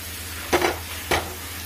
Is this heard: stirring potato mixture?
yes